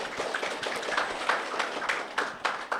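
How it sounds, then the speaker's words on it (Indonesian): Scattered, fairly faint hand claps from a small audience honoring a teacher at the close of a discussion session, with irregular individual claps that never build into full applause. "Oke, tepuk tangan buat ayah guru dong."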